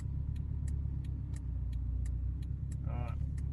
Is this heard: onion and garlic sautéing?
no